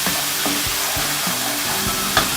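One teaspoon of turmeric frying in hot oil for a Kerala-style bhuna chicken masala, giving a steady, close, dense sizzle with soft stirring scrapes and taps throughout.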